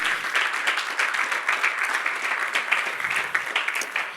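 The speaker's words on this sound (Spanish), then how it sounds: "Dale un aplauso a Jesucristo." A congregation applauds during a church service, a loud sustained wave of clapping with a fast, even rhythm that carries through the whole stretch.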